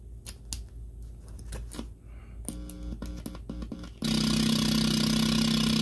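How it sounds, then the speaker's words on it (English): Snare hits from a DIY synth drum machine, heard as a run of short electronic clicks and tonal buzzes that gives way to a loud, sustained noisy burst that does not stop. "And the snare."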